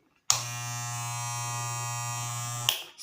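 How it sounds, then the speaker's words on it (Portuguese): An electric hair clipper that lacks oil gives off a loud, steady, harmonic buzz. The buzz starts abruptly, holds evenly for over two seconds and then cuts off, with nothing else heard. "às vezes sua máquina ela tá com essa zoadinha"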